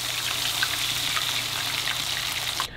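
Food deep frying in a pot of hot oil at about 300 degrees gives a steady, close, dense crackling sizzle that runs throughout and cuts off abruptly at the end, with no talking.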